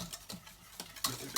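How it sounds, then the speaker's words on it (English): Béchamel sauce whisked in a pan while making lasagne bolognese, soft close taps and swishes of the whisk at irregular intervals, quiet with no voices. "Just whisk my bechamel a bit."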